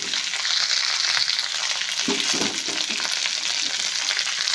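Raw onion tipped into hot oil already spitting with curry leaves, a steady loud sizzle with a burst of stirring and scraping partway through, no voices.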